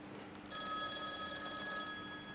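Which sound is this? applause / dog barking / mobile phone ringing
mobile phone ringing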